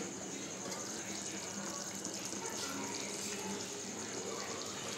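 Rice boiling in a covered pot on a home stove, a steady bubbling, watery rush that holds an even level throughout, close by and without any talk.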